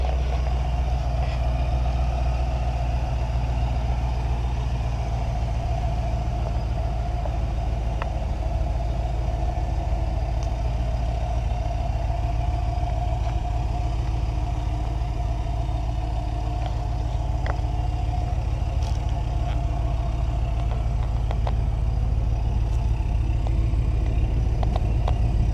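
A 1995 Ford F150 pickup truck's engine drones steadily at low pitch while driving, a constant, fairly loud hum and road rumble from inside the cab, with no one talking.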